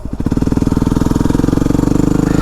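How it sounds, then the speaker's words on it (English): A Yamaha WR250R motorcycle fitted with a Rekluse clutch pulls away in third gear, the single-cylinder engine loud and close with a rapid, even thumping pulse that slowly picks up pace. "I'm still in third. And I'm just going to roll on the throttle and see if I could just go."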